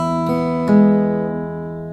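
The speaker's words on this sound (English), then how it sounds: "Then we will move on to the E based chord or melody here." An acoustic guitar rings out on an E-based chord or melody, with two plucked strikes that sustain and slowly decay, close and clear with no talking.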